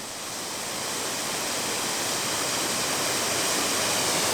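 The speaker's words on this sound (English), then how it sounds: "Really unique waterfall." A steady rushing waterfall, a constant broad roar of falling water that swells slightly louder at the start and then holds even.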